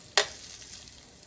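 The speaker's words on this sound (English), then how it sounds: "you can tell it's hot from it sizzling" A single sharp burst of sizzling as Parmesan-crusted chicken hits hot oil, fading quickly into a soft, steady crackle.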